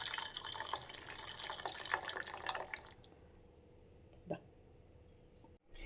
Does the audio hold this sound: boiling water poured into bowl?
yes